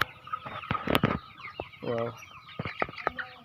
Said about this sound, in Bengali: এই যে সেটের ভিতরে আবার আছে দেখুন অনেক মুরগি সেটের ভিতরে